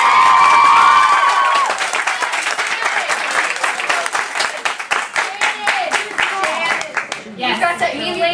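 A room full of people gives a round of applause for Miss Katie Larimer at a school anti-bullying gathering. The clapping is loud and dense throughout, with a voice briefly audible at the start and cheering rising near the end.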